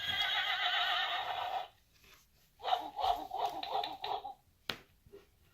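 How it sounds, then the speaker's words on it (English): A toy plays a recorded horse whinny, a loud quavering neigh that cuts off, followed after a short pause by a second, choppier burst of neighing, then a sharp click. "So let's find the horse."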